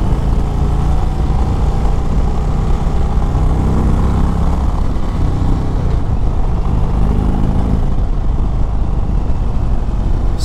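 An Indian Chieftain Dark Horse motorcycle with a Thunderstroke V-twin rides on, a loud, steady low engine rumble heavy with wind noise, rising and easing slightly through the ride.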